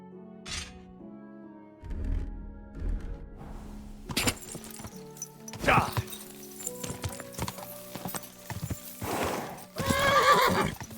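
A horse neighs and whinnies over steady clip-clopping hooves in a video game, with music and scattered game effects around it and a voice talking at times.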